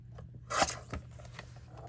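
Scissors cut a piece apart in a short, crisp snip, a sharp slice followed by a second fainter cut, close and fairly quiet.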